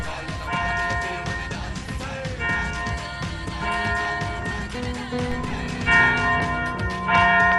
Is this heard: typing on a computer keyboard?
no